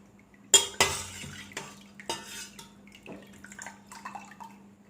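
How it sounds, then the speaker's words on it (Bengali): A strainer clinks against a metal pot while mozzarella curds are lifted out of the whey, a few sharp scrapes and taps followed by soft dripping and splashing, close and alone. "তো এবারে আমি এটা একটা স্ট্রেনারের সাহায্যে দেখো তুলে নিচ্ছি।"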